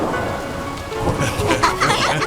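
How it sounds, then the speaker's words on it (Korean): Rain falling in a steady, close hiss, with faint tonal sounds drifting over it for a couple of seconds. "비가 온다."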